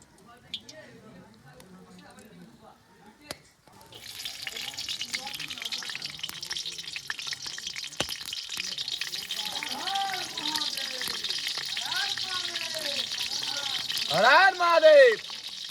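Potatoes fry in hot oil in a wok over an open fire outdoors. A steady loud sizzle starts partway through and continues, with people talking and shouting nearby throughout.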